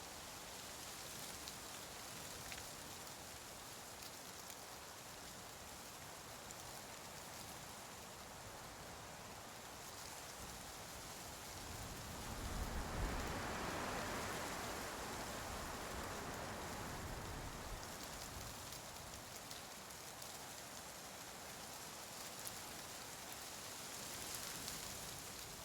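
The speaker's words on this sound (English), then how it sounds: "The tree density parameter is used to control the sound of wind in trees." Wind blowing through trees, an ambience layer from the video game Nightingale: a soft, continuous rushing hiss that swells into a stronger gust midway, then settles back to a steady low roar.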